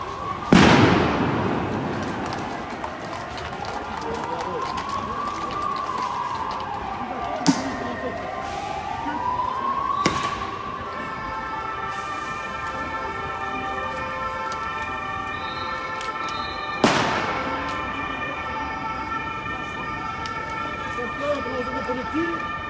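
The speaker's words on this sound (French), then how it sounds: "le canon à eau qui est en train d'arriver sur la zone où je me trouve actuellement" A wailing siren rises and falls as a police water cannon truck arrives at a street protest amid tear gas, with sharp bangs like firecrackers or blasts going off several times.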